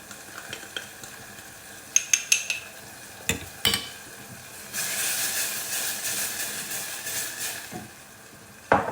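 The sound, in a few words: stirring cornstarch into cold cream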